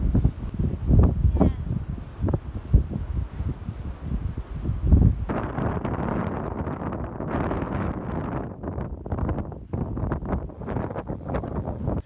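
Gusty wind in Dingle, Ireland, buffets the microphone in low rumbling bursts, steady and close throughout, with a faint voice briefly underneath.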